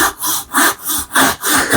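A sharp Japanese-style pull saw cuts through wood in about four quick, rhythmic rasping strokes, loud and close with brief pauses between each pass.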